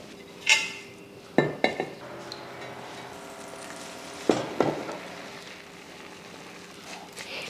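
A dosa cooks on an old dosa griddle with a soft steady sizzle. Metal utensils scrape and clink against the pan in a few sharp bursts, close by, and no one speaks.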